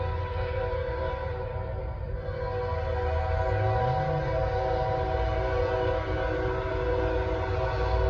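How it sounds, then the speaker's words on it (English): A Norfolk Southern freight train led by ET44AC and SD70ACe locomotives on the Charlotte District sounds as a steady, loud, close engine drone with sustained tonal horn-like notes throughout, and no talking. "We got an ET44 AC and a ST70 ACC."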